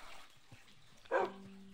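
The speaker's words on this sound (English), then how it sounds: "silly dog." A dog outdoors gives a single sharp bark that rings briefly, preceded by faint rustling and quiet background noise.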